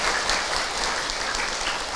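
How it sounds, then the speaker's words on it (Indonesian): Audience applause for a guest at an Islamic preaching gathering, a dense even wash of many hands clapping, steady and moderately loud throughout with no talk. "Tepuk tangan ibu untuk Kak Hilman."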